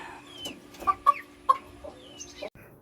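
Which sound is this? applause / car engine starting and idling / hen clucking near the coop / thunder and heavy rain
hen clucking near the coop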